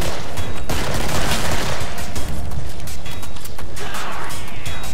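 Loud, rapid gunfire from a shotgun in a Kill Floors video game, with dense overlapping blasts and crashes that continue nearly nonstop, close and harsh, with no talk.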